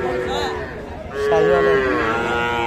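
Young bull calves at a cattle market give a couple of drawn-out moos close by, with a crowded hubbub of traders' voices and chatter around them.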